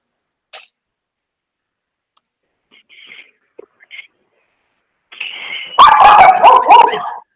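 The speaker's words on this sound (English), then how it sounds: "There's a puppy." A puppy barks and yips close to the microphone on a virtual school board meeting call, first with a few faint whimpers and short sounds, then a loud burst of rapid barking at the end.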